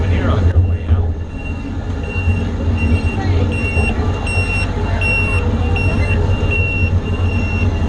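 The Jacksonville Zoo ride train rumbles steadily and close, with a repeated high beeping signal over the noise and a voice announcement spoken over it.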